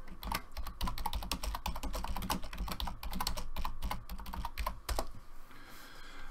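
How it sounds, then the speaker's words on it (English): Steady typing on a computer keyboard, rapid close key clicks in a continuous run with a short pause near the end, no talking. "Let me type something."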